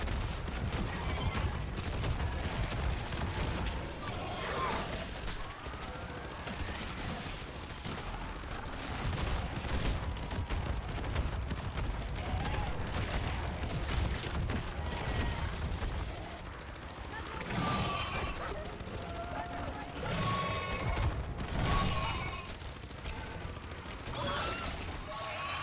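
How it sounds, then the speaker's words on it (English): Cannon and other weapons firing in the game Call of Duty Modern Warfare Zombies, a dense, loud barrage of blasts, crashes and rattling gunfire, with a voice occasionally talking over it. "That cannon is doing work though."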